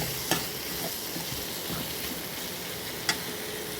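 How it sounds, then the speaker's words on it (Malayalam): Masala with two tomatoes sautéing in a pan for ladies finger (okra) masala, a steady broadband sizzle with soft stirring scrapes and two sharp utensil clicks, close and fairly quiet. "ഇതിനകത്തോട്ട് തന്നെ ഞാൻ 2 തക്കാളിപ്പഴം ആഡ് ചെയ്തിട്ടുണ്ട്. ഇനി ഇതോട് ചേർത്തൊന്ന് വഴറ്റുവാണേ."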